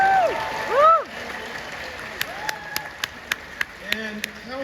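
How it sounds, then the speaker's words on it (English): Speech is heard first at the Caltech commencement ceremony, then sharp, evenly spaced claps start up and continue at a steady beat, fairly faint against the room background. "maybe if you could just applaud"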